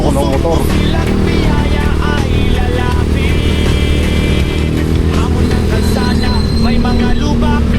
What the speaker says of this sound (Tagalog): nagdadrive ako ng motor